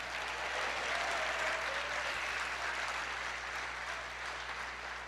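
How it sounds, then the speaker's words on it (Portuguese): A church congregation claps together in sustained, dense applause, steady and fairly loud throughout with a low hum underneath and no speech. "Pode dar uma salva de palmas ao Senhor, pode dar glória a Deus."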